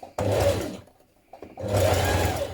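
A sewing machine runs a stretch stitch along a double-folded dress sleeve hem in two close, loud bursts of motor whir separated by a brief pause.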